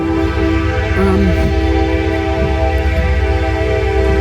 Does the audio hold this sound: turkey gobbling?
no